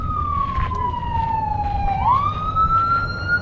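A police siren wails, its pitch sliding down slowly and then sweeping back up, fairly close, over a low traffic rumble.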